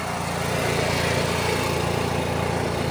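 An Onan RPQG 4,000 watt RV generator runs steadily, a loud, close, continuous engine drone with a buzzing, even hum and no pauses or talk.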